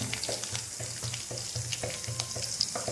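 Dried red chillies and chopped garlic sizzle in hot oil with a soft, continuous crackle, joined by faint low thumps from stirring at a fairly steady pace.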